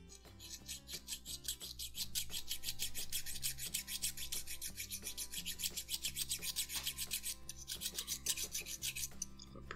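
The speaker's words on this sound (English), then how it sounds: "I'm going to run a couple passes with the file and see what that exposes." Metal hand file rasping across the cast hammer of a Rock Island M206 revolver, a quick rhythmic series of close, gritty scraping strokes repeating steadily without talk.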